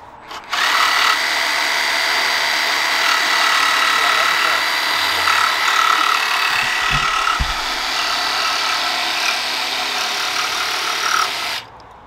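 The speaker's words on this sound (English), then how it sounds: "You didn't have the jigsaw on full speed that time." A jigsaw cuts through laminate flooring indoors, a steady loud buzzing rasp running for about eleven seconds, with brief low thumps partway through.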